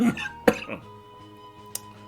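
A person coughing indoors, a sharp burst near the start and a second, smaller cough later, standing out over faint background music and game sounds.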